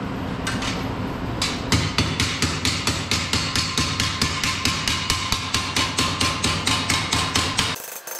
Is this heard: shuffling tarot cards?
no